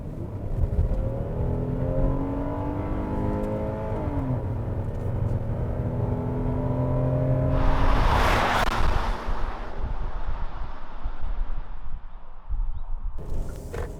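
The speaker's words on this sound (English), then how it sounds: "Now let's put the car into sports and drive." A 2020 Hyundai Palisade SUV in sport mode revs and accelerates close by, rising tones climbing through gears, then a burst of rushing noise before settling into a steady drive.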